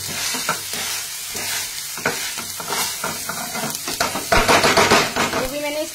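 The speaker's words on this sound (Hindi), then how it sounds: "थोड़ा सा टमाटर को मैश कर देंगे।" Tomato being mashed in a frying pan with a spoon, rhythmic scraping and squelching strokes over a constant close sizzle, growing busier and louder toward the end.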